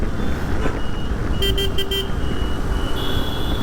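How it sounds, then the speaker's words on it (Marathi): Vehicles speed up from behind on a road, with a steady roar of traffic and a quick burst of several short horn toots partway through. "मागणं गाड्या येते जोरात"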